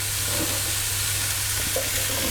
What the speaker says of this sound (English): Next thing goes in the carrots. And just mix those around for a couple of minutes.